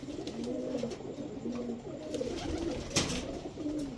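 Pigeons of a fancy breed, a feather-footed pair, coo steadily in a series of low rolling calls, close by, with a brief sharp knock near the end and no talk.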